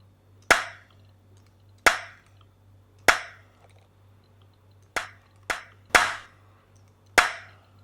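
Seven sharp, dry clap drum sample hits ring out alone at irregular intervals over a low steady hum, each with a quick crisp decay.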